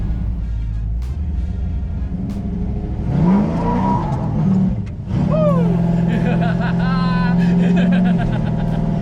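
A 1955 Chevrolet Tri Five engine revs hard during a burnout at a garage, with rising throttle sweeps and sustained roaring under tire squeal, close and loud.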